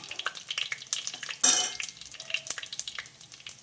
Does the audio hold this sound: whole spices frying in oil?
yes